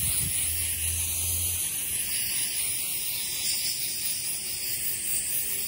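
A continuous, high-pitched hiss of a dry ice CO2 fog spray can runs steadily throughout, aimed at a ground yellow jacket nest, fairly loud and close, with a brief low hum near the start.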